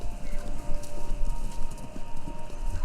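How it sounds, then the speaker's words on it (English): Horses gallop in a race heard over a radio in the Kentucky Route Zero video game, a rapid steady drumming of hooves, loud and continuous throughout. "Sounds like horses running a race."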